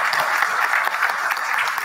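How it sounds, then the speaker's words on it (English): Audience at a state policy conference panel on reform, clapping in a dense, steady burst of applause that stays close and loud for the full stretch, with no talking over it. "And yes, you can clap for that."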